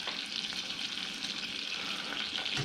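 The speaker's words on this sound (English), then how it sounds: "you're going to melt it down and you're going to start to caramelise it ever so softly" Sugar melting and softly caramelising in a pan, a steady low-level fizzing sizzle that stays even and faint throughout, close by with no voices.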